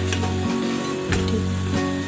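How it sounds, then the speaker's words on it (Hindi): Onions brown in a pan for mutton yakhni pulao with a loud, close, continuous sizzle, broken by a few stirring scrapes and a low hum, and no talking. "पुलाव ब्राउन करते हैं प्याज इस तरह ब्राउन करना है"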